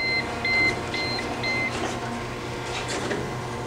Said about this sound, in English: And when it's done, you have the buzzer.